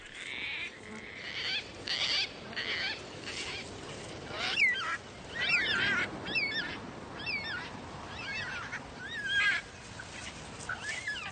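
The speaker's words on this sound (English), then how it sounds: "This environment is richer, attracting gang-gang cockatoos." Gang-gang cockatoos give repeated creaky, squeaky calls in scattered bursts, moderately close, set against a soft background hiss.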